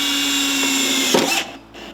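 Power drill boring into a boat fender, a steady high whine that strains and bites near the end before cutting off, followed by a brief quieter burst.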